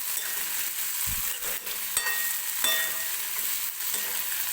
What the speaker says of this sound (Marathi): टोमॅटो व्यवस्थित आपल्याला मऊ होईपर्यंत तेलामध्ये भाजून घ्यायचं आहे